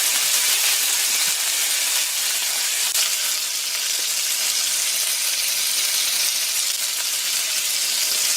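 Calamari tentacles sear in a hot pan with a dense, continuous sizzle, loud and close from start to finish. Small crackles sit within the hiss, and there is no talk.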